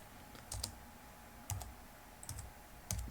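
Keys tapped on a computer keyboard while typing a Linux command, four short clusters of quiet clicks spaced about a second apart, close and alone.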